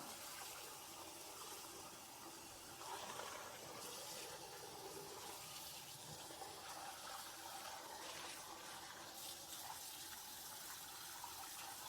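Water from a tap running steadily as Berkey water filters are rinsed, a continuous faint splashing wash with no talking.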